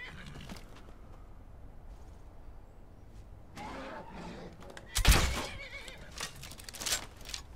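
A horse in a video game neighs and whinnies in short, loud bursts with a heavy thud and clattering, following a quieter stretch of ambient noise.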